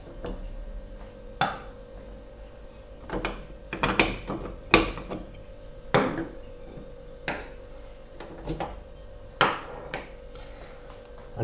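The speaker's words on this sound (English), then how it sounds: "First thing we're going to do is take the covers off." Metal stove top covers lifted off a kitchen range one after another, giving about eight sharp clanks and clatters spaced a second or two apart over a low background hum.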